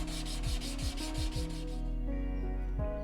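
A Japanese Kunitoshi chisel is rubbed back and forth on a sharpening stone, several rhythmic gritty strokes close up, then a quieter stretch with a final stroke.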